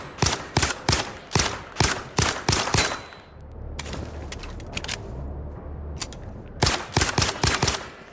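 Rapid bursts of gunfire from weapons on a shooting range in the VR game Zero Caliber, loud and rhythmic in two volleys separated by a quieter stretch of scattered clicks and rumbling.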